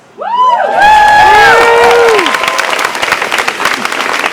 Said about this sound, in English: Claps for policy, I love it.